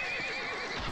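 A horse in a video game neighs with a bright, wavering whinny that carries through the whole second, loud and close with no talk over it.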